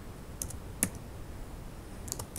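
A name is typed on a computer keyboard as a few sparse, quiet key clicks over a faint room hiss, with no voices.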